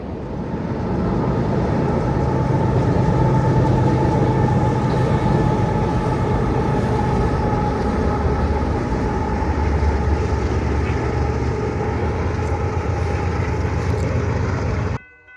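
A train rolls past in Minot, North Dakota, a loud, steady rumble of rail cars and wheels held close for the whole span before cutting off abruptly at the end.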